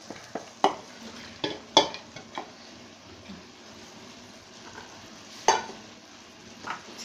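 Soaked dal is stirred into vegetables frying in a pan for dal bhaji. Irregular spoon scrapes and clinks rise over a faint, steady sizzle.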